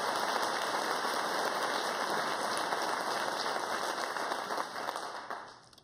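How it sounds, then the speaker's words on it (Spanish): An audience at a business awards ceremony gives sustained, dense applause that fills the space evenly before tapering off at the end. "Un aplauso para Simón y para todo su equipo"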